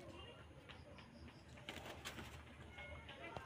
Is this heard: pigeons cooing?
yes